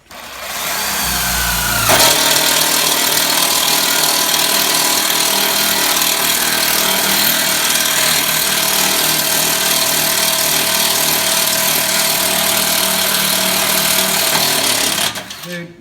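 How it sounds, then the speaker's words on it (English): A drill drives a Milwaukee thin wall metal hole saw through metal during electrical work, producing a loud, continuous grinding whine that runs for over ten seconds after a brief start, then stops abruptly. "he's got the Milwaukee thin wall hole saw"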